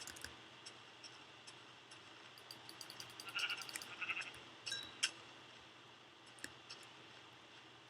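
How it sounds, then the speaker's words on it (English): Sheep bleating in the video game Minecraft, a few short bleats in the middle over a steady bed of game ambience and soft ticking, with no talking. "There's a sheep on that tree."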